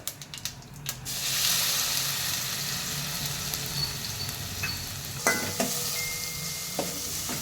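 Green paste frying in oil with mustard seeds, opening with a few sharp clicks and then a broad steady sizzle, with scattered scraping stir strokes and clacks near the end, close by.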